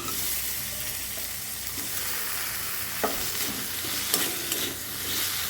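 Tomato frying in hot oil in a pan for an egg and brinjal curry makes a loud, continuous sizzle, broken by a few brief stirring scrapes and clicks.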